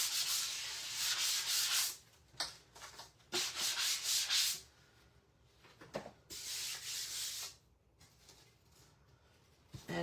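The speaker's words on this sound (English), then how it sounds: "I'm going to sand it one more time. I like a smooth surface." Hand sanding of a wooden surface to smooth it, in repeated close rasping bursts of a few seconds each, separated by short pauses, with no voices.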